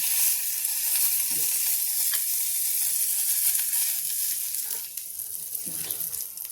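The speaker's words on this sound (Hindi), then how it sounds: "जब आप कच्चा परवल छौंकते हैं" Steady, bright sizzling of raw pointed gourd frying in a hot pan, with a few soft stirring knocks, fading a little toward the end.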